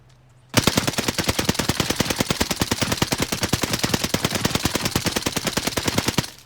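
Rapid automatic gunfire from an Owen Gun submachine gun in the video game Warzone Pacific, a steady unbroken stream of sharp shots, loud and close, after a brief quiet start.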